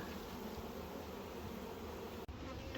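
Steady, dense buzzing of many honey bees at beehives close by, continuous throughout with a brief dip near the end; no voices.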